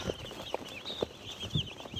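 Chickens cluck in short, soft bursts, about four in two seconds, over a faint background hum; no voices.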